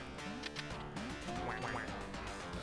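Quacking ducks in the Duck Game multiplayer shooter, a few short nasal quacks repeating over a steady busy game soundtrack, moderately loud throughout.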